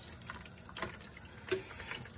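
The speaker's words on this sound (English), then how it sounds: "So let's turn some warm water on it and see what we can get to come off." Warm water runs from a tap onto a 1951 Bel Air plastic model kit to loosen its paint. The flow is soft and steady, with a few faint splashes and one sharper clink partway through.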